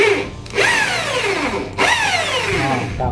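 An electric drill whirs up twice while working on a Pegasus overlock sewing machine, each burst rising in pitch and then winding down, close and fairly loud.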